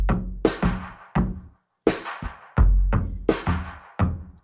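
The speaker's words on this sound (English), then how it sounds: "It starts with these programmed drums that sound like this." Hip hop–influenced programmed drums from the intro of a song, punchy kick and snare hits in a sparse, steady pattern with short gaps, heard alone and fairly quiet.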